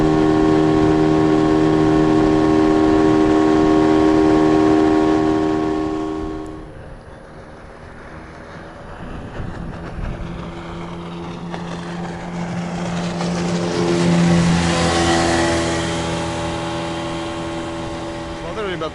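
An outboard motor on a Prizma 4000 Roger HDPE boat drones loudly at a steady pitch. The drone then drops away and swells again as the engine revs back up, with rushing water noise behind it.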